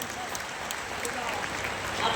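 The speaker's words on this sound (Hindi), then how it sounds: "उनको भी ताली बजा के तुम धन्यवाद दो" A large gathering at a religious congregation claps in a steady, even wash of applause, with scattered sharper claps and voices mixed in underneath.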